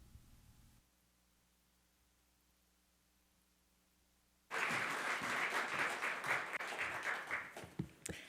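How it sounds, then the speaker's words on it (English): An audience bursts into loud, sustained applause welcoming a keynote speaker, the U.S. Department of Agriculture Undersecretary for Rural Development, at an energy summit plenary, after several seconds of near silence and low hum. "Please give a warm round of applause"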